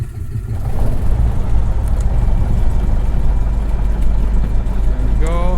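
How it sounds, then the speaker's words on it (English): A light aircraft engine cranks and catches in a flight simulator, then settles into a loud, steady, close droning run that continues throughout, with a brief voice near the end. "And we can go ahead and crank her up."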